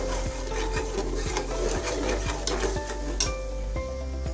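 A spoon scrapes and stirs yogurt in a hot pan over high heat while beef liver cooks, with a steady sizzle underneath and rhythmic scraping strokes about twice a second, close-up and without speech.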